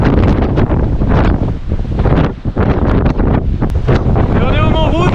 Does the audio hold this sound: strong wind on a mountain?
yes